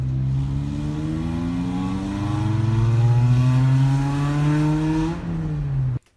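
A supercharged Toyota MR2 AW11 with a 4AGZE engine revs up loudly through its exhaust, rising in pitch, holding a higher note, then dropping and cutting off abruptly.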